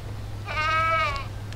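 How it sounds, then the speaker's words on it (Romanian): A goat on a small rural homestead in Romania gives one drawn-out, wavering bleat, close and fairly loud over a steady low background hum, with no talk. "nu mă pot concentra de caprele astea, pentru că una e acolo la cameră și una e aici la mine"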